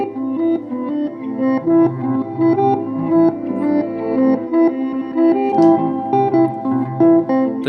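A guitar loop on a Ditto X4 looper with the reverse effect applied, a continuous stream of swelling, backward-sounding notes pulsing in a steady pattern, loud and close, with no voices.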